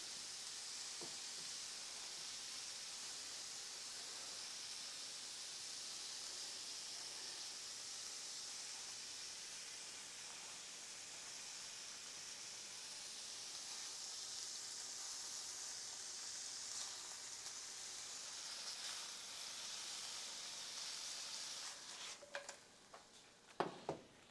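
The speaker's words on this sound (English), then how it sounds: "Put a little oil at the top. Just a little. Let it sizzle, and then we flip that shit." Oil sizzles in a frying pan, a faint, steady high hiss that continues evenly throughout, with a few small clicks near the end.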